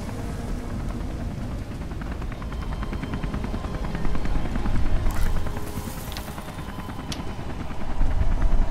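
Helicopter in the Beyond Two Souls video game, a loud continuous rotor chop with rapid thudding pulses, growing stronger midway, with sharp bursts like gunfire cutting through near the end.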